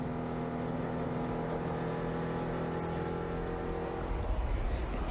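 NASCAR stock car engines roar in onboard camera audio at the 2004 Pocono 500, a steady, loud, droning engine hum with a slight rise near the end.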